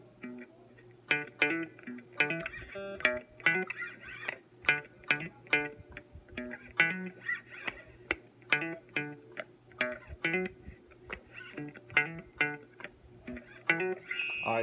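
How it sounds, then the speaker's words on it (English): A distorted electric guitar plays a quick lead line of repeated plucked notes with hammer-ons, steady rhythm, effects-laden and fairly close, no talking. "I do a little lead guitar part on it."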